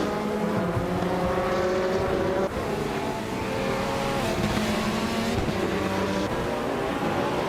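A 2017 Oreca 07 Acura race car in a racing video game, its engine howling steadily and close throughout, pitch rising and dropping with gear changes, with no talking.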